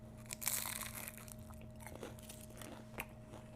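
Someone eats a crispy fried lentil and beef sambusa, and the bites make soft, close crunching and chewing sounds with a few sharper crackles. A faint steady hum runs underneath and no one speaks.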